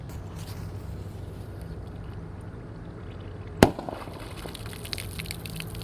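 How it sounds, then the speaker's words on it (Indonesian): A Disco Happy Flower B firecracker is lit in water, giving one sharp, loud pop midway through steady background hiss, followed by a brief trail of splashy bubbling. "Kalau Disco Happy Flower B yang warna ungu bisa menyala, seperti itu, guys, reaksinya."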